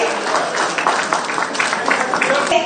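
Audience applause at a ministry ceremony handing appointment letters to dental surgeons and medical officers: continuous, moderately loud clapping filling the whole stretch, with a few people speaking beneath.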